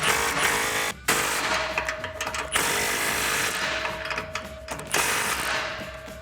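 Clamps on a Corsa Sport 3-inch cat-back exhaust on a 2015-2019 Mustang are tightened with a power tool, whose loud mechanical whirring runs in long bursts broken by short pauses and a steady whine.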